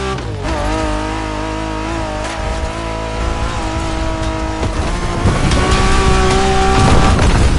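A race car roaring through a drive in the video game The Crew Motorfest, a loud steady engine drone with rising revs and tire squeal near the end.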